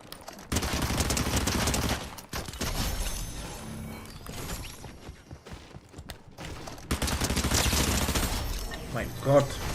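Rapid bursts of gunfire from a Fortnite Battle Royale match, the FNCS Finals, come loud and dense in several volleys, with brief gaps and mechanical clatter between them.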